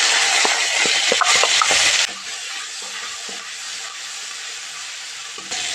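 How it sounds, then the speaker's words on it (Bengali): Ginger paste, a little whole cumin and turmeric fry in hot mustard oil, a loud steamy sizzle for the first two seconds that then settles to a quieter, steady hiss with faint stirring ticks. "আদা ভালো করে ভাজা হয়ে গেছে।"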